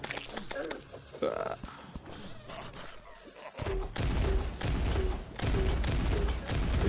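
A grenade launcher firing in Terraria, giving a rapid run of repeated loud shots in the second half, after quieter game noise and chatter, with people talking over it.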